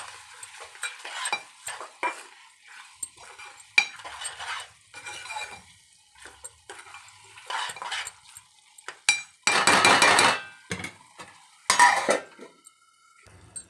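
Goat liver fry being stirred in a pan with chili powder and salt, a spoon scraping and clinking against the metal in irregular bursts, with a few louder, longer scrapes near the end and a faint sizzle between strokes.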